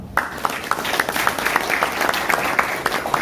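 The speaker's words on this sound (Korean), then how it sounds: "네 분께 다시 한번 큰 박수 부탁드립니다" An audience at an investment memorandum signing ceremony for a logistics center claps in a steady, lively round of applause. Sharp individual claps stand out over the crowd's dense patter, close and continuous.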